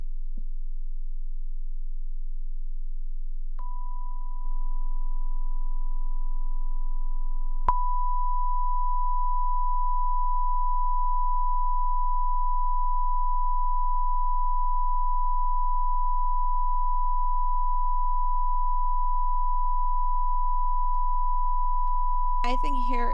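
A steady pure sine tone for tinnitus matching begins softly, then jumps louder and holds unbroken for a long stretch, with no voices over it.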